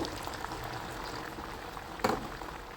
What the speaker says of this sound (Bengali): আগে থেকেই আমি কড়াইতে তেল গরম হতে দিয়েছিলাম। গরম তেলের মধ্যে একে একে ছেড়ে দিচ্ছি।